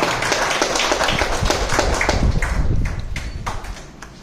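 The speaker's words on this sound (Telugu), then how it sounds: "కాబట్టి గట్టిగా క్లాప్ కొట్టి మేడం గారిని వెల్కమ్ తెలియజేసుకుంటూ వస్తున్నాం." An audience claps to welcome a guest at an event, a dense steady burst of applause that fades out toward the end.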